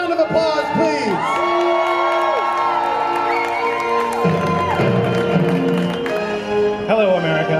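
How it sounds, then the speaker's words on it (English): A festival crowd at the opening of a grilled cheese competition whoops and cheers loudly for the whole stretch, shouting voices layered over a dense, sustained roar with scattered claps. "Ladies and gentlemen, Mr. Tim Walker, a big round of applause, please."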